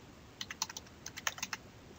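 A value is typed into a search box on a computer keyboard, a quick run of about a dozen crisp, close key clicks in short bursts over quiet room tone.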